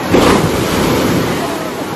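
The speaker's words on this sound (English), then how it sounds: "Big waves now, huh?" Ocean surf breaking on the rocky shore at Reid State Park, Maine, a steady broadband wash of waves with wind buffeting the microphone throughout.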